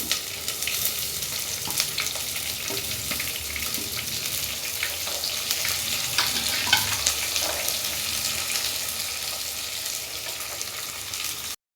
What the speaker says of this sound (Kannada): ಇವಾಗ ಈರುಳ್ಳಿನ ಹಾಕ್ಕೊಳ್ಬೇಕು